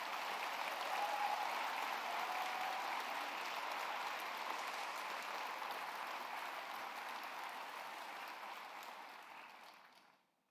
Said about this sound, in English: I'd like you to really give them another round of applause for all the fan winners.